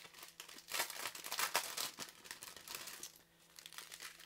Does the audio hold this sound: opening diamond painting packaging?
yes